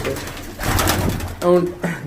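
Pigeons coo in cold winter weather, soft low throaty calls with a clear rising coo near the end, mixed with a voice talking nearby.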